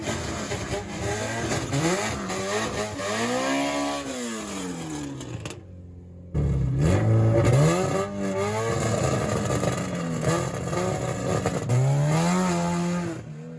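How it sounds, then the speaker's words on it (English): Drag racing car with a K24 engine doing a burnout, its engine revving hard in loud rising and falling sweeps, cutting out briefly midway before a second, louder burst of revving. "Here's the burnout."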